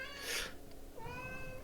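A cat lets out a couple of short meows, one bright and drawn out, the next softer and rising, fairly close with a quiet background.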